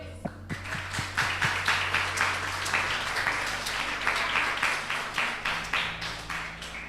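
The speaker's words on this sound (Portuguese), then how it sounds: "Aplaudam o Senhor" A church congregation at an Assembleia de Deus service claps in praise, a run of sharp claps building into sustained applause with rhythmic pulses throughout.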